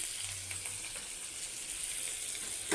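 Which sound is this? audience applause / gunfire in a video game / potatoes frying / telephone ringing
potatoes frying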